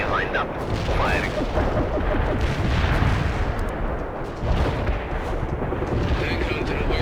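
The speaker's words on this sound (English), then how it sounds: "firing solution ready. Artillery lined up. Firing." Artillery firing in the video game World in Conflict, a continuous barrage of booms and blasts that stays loud throughout, with radio-style voices and short whistling effects mixed in.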